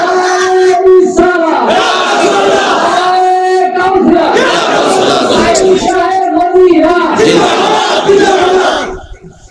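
A large crowd at an Islamic sermon gathering shouts the takbir response in unison, loud and close, with several long chanted bursts that fade at the end.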